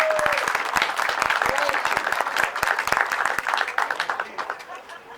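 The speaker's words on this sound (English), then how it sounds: "Can we have a round of applause?" An audience at a train depot open house claps for the chairman and her committee. The applause is full and lively at first, then thins out into scattered claps over several seconds.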